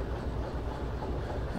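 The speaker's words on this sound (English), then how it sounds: "My train's moving back, that's normal." A train in Derail Valley rolls steadily along the rails with a dense, low rumble and a faint clatter. The sound is close and constant over a brief stretch, with no voices.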